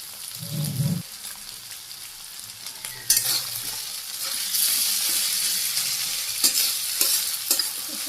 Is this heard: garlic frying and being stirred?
yes